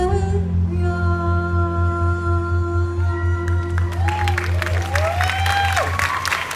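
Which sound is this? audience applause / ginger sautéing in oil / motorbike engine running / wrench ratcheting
audience applause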